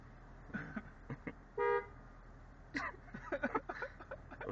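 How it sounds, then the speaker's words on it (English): A single short car horn toot from a 2010 Chevrolet Camaro SS, steady and harmonic, sounds once amid scattered voices and clatter nearby. "You gonna honk the horn?"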